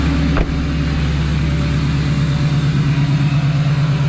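A Duramax LBZ diesel V8 holds a steady high idle just above 1,000 RPM after a cold start without working glow plugs, with a check engine light on: a loud, even, low drone with one brief knock near the start.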